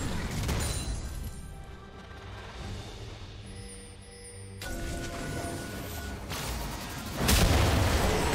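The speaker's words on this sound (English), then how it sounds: "Team's turret has been destroyed." Deep booming blasts from a turret being destroyed in League of Legends, with a heavy explosion near the start and another loud crash near the end over a continuous rumbling game soundscape.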